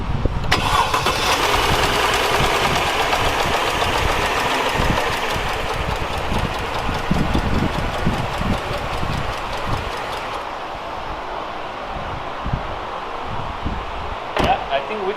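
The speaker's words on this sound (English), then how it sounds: "we'll fire it up, see if the lifters get a bit quieter" A car engine with noisy hydraulic lifters, treated with Liqui Moly lifter additive after an oil top-up, cranks and fires, then idles steadily with a rapid ticking clatter, loud and close, with a person talking briefly.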